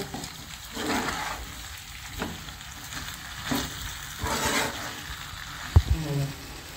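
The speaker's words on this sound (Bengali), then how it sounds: "এবারে কিছুক্ষণ এটাকে আমি কষিয়ে নেব" Chicken curry masala sautéing in a pan, with a continuous sizzle and several scraping stir strokes, plus a sharp clatter near the end, up close.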